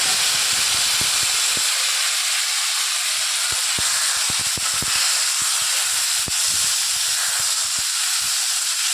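Cucumber pieces for a traditional East Bengal cucumber curry hiss and sizzle loudly in a hot pan, a steady broadband steam-like sizzle with scattered crackles throughout and no talking.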